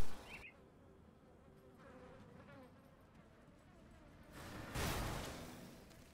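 Insects buzzing at a hive entrance in the game Grim Dawn, a faint continuous drone under game ambience, with a louder whooshing swell near the end.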